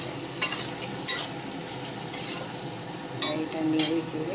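Spices with Kashmiri chilli fry in a pan for a soybean and potato curry, with a steady sizzle and repeated scraping stirs and a few metal clinks close by.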